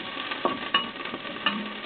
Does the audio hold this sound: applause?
no